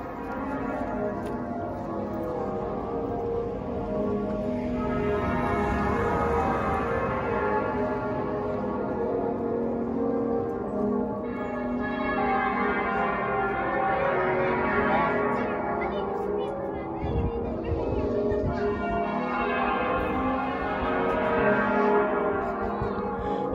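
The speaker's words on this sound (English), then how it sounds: "You're pulling the bells there, Joe" Hand-pulled church bells ring in Liverpool, overlapping tones swelling and fading in repeated waves of peals, loud and resonant with a long ringing decay.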